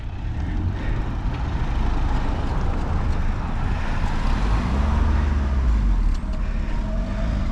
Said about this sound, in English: Judging by the amount of cars coming down here